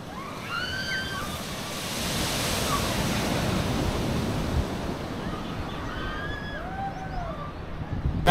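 Ocean waves washing onto a white sand beach at Cateel, Davao Oriental, a steady rolling surf roar with slight swells, wind noise, and faint bird calls threading above it.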